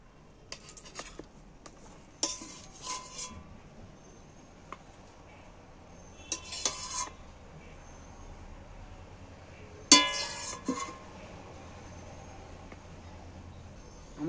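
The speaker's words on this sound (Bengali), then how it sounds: "এখানে আমি একটা প্লেট নিচ্ছি।" A plate being picked up and handled to serve koi fish in oil gravy, with scattered faint clinks and a couple of sharper ceramic knocks in a quiet kitchen.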